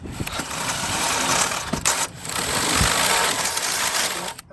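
A power drill whirs continuously up close, enlarging bolt holes in a steel rear bumper on a Lexus LX470. There is a brief pause midway, then the drill whines again before cutting off.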